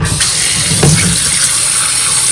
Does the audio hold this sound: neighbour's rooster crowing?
no